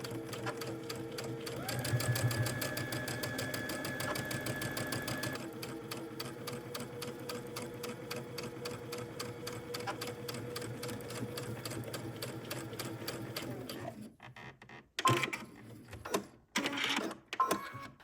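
A sewing machine runs stay stitching around a dress neckline, a fast steady mechanical whir in two long bursts, followed by a few short clicks and knocks as it stops.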